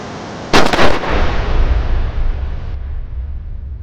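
Gunshots ring out inside a police station: a sharp, loud burst of several rapid blasts near the start, followed by a rumbling echo that slowly fades, with no talking.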